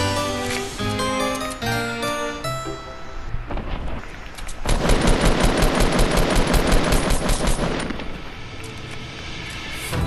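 Automatic gunfire in a video game, loud rapid bursts of shots that rattle in long runs over layered game sound and music, close and dominant throughout.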